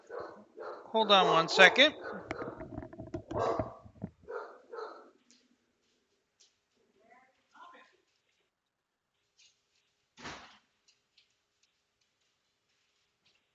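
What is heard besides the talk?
dogs barking in the room during recording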